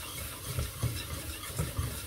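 Tomato paste and flour frying in a pot for soup, a soft continuous sizzle with a few stirring scrapes at a steady pace, close and fairly quiet.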